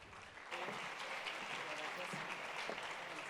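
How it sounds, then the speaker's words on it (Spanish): An audience at a women's forum in Mexico applauds a speaker, a steady, fairly loud wash of clapping that starts abruptly and carries on to the end. "Por acá, Alicia, por favor, un aplauso para ella."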